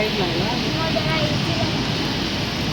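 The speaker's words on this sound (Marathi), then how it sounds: "पाऊस बघा, तुम्ही पाहू शकता किती जोरात आला आहे तो" Heavy monsoon rain pours steadily at Ganpatipule on the Konkan coast, a dense, loud, continuous hiss with no breaks, while a voice speaks over it.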